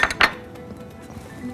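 Dishes clink sharply a few times at the start as tomatoes and vegetables are set onto lentils with tahini, then fade to faint kitchen handling noise.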